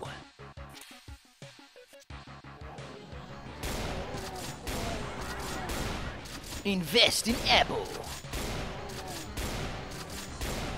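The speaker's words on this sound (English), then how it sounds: "Why does this shotgun sound so beefy?" Shotgun blasts from the Doom mod Back to Saturn X boom in rapid bursts over game music and effects, heaviest in the middle, with someone talking over the action.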